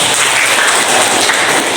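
Children in a classroom during an Islamic religious education lesson clap together, a dense, loud, continuous patter of many hands that fills the room without pause and with no voices over it.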